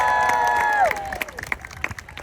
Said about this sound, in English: Can I hear a big, loud cheer from everybody for the Trebuchet Master March?